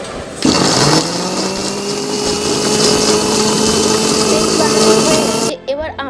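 A blender grinds ginger, green chili, boiled melon seeds and cashews into a thick paste, a loud steady motor whir with rising pitch running for about five seconds before cutting off abruptly.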